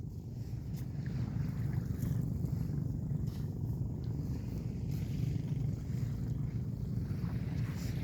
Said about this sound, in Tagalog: Yung bangka namin ay lumaot pa.